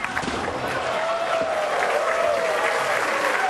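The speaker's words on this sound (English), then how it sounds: "You hear the crowd's reaction." Bowling crowd at a PBA tournament breaks into sustained applause and cheering, a dense steady roar with a faint whistle-like tone running through it.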